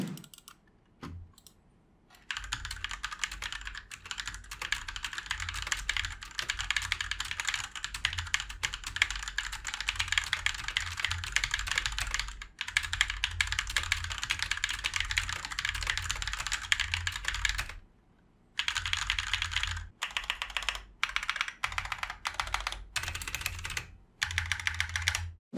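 Fast, steady typing on a mechanical keyboard at a desk setup, close and crisp clacking keystrokes running almost continuously, broken by a few brief pauses, with no one talking.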